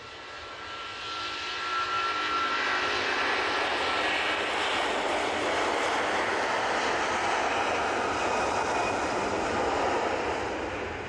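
An airliner roars down the runway on its takeoff roll at Manchester Airport, bound for Palma de Mallorca: a broad, steady jet rumble that rises over the first two seconds and then holds loud and sustained, with no talk.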